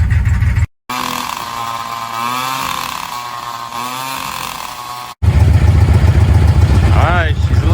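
A rough Ford Ranger pickup truck engine, running without its exhaust fully fitted after fuel pump work, runs loudly and unevenly, cutting out briefly twice, with a raspy, uneven revving and a person talking over it.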